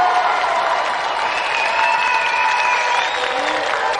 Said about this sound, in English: Another round of applause for David Finch.